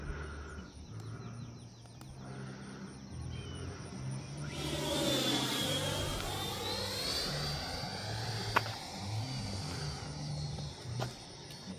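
A Freewing T-33 80mm electric ducted-fan RC jet roars past in flight, its whine swelling loud and sweeping through a Doppler shift before easing off as the throttle is released, with no talk over it.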